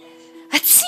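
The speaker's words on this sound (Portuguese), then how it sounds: "Mamãe tá espirrando." A woman sneezes once, a sharp, loud burst that comes after a brief quiet breathy intake and stands alone close to the microphone.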